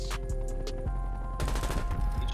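Bursts of automatic gunfire crackle in Call of Duty Black Ops Cold War multiplayer, a few sharp shots at first, then a denser rattling volley over steady game background sound, with no talk.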